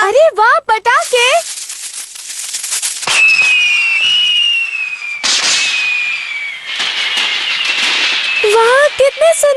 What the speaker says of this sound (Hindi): पटाखे जलाओ, मौज मनाओ। अरे वाह पटाखे।